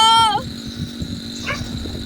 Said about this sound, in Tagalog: Yun na naman sila sa tahol.